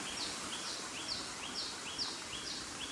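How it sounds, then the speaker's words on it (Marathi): Repeated high-pitched bird chirps come at a steady rhythm over a constant hiss of outdoor ambience near a small waterfall, fairly faint and distant. "पक्ष्यांचे आवाज बघा किती असत"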